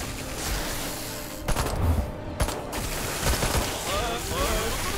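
Dense gunfire crackles through a busy battle in Destroy All Humans! 2, with sharp bursts and impacts over continuous loud action noise.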